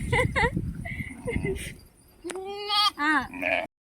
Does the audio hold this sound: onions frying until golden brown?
no